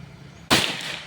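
A single sharp shot from a Predator Pajero Gen 6 air rifle snaps out during an accuracy test after a moment of quiet, loud and close, trailing off quickly.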